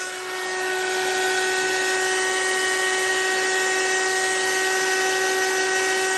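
A heat tool blows hot air to dry paint on a hand-painted rock, giving a loud, constant whining hum with steady tonal overtones that starts abruptly and holds throughout, with no voices.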